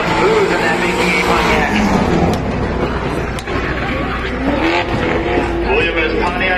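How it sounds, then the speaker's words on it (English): Pontiac G8 GT race car running a time attack lap on a racetrack, its engine roaring loud and steady with rising and falling revs under continuous commentary from an announcer. "Next car to take to the racetrack, car 2."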